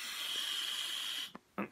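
Breath blown through the opening of a steam mop head makes a sustained airy hiss that cuts off abruptly, followed by brief soft sounds.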